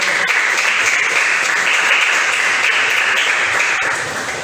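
A church congregation applauds during a sermon, with dense, steady clapping that fills the room at an even level from start to finish.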